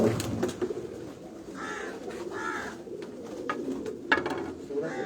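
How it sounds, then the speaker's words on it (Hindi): Kamagar pigeons coo on a rooftop loft in soft, repeated rolling calls over a steady murmur of background noise, with a couple of sharper clicks near the end. "ये जो कबूतर है ना ये कमगरों वाले कबूतर हैं।"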